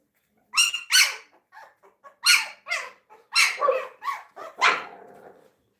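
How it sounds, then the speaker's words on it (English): A bully breed dog barks outside on a cool Oklahoma evening, a series of sharp, fairly close barks in uneven bursts with short gaps between them, heard with no talking over it. "Y'all heard him out there barking."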